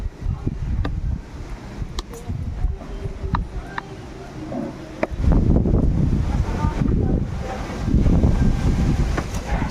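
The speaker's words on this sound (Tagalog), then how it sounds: "malakas ang hangin mga kalangga." Strong gusty wind buffets the microphone outdoors after rain, a continuous low roaring rumble that swells louder in the second half, with faint rustling and scattered clicks mixed in.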